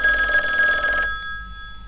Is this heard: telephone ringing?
yes